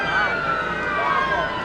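A police car siren wails steadily at the head of a Labor Day parade, fairly loud and continuous, with a voice talking over it.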